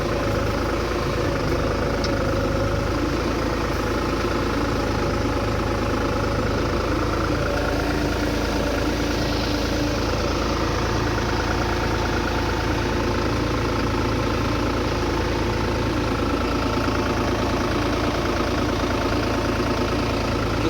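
A TT55 tractor engine idles steadily at close range, a loud, even diesel drone with a constant low rumble and no change in pace for about twenty seconds.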